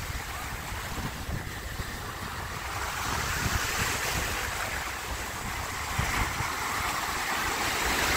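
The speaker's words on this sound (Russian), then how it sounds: "Но вы чувствуете ветер." Wind gusts steadily buffet the microphone on an open beach at Shediac, New Brunswick, Canada, with a constant roar of surf and rushing air and no voices.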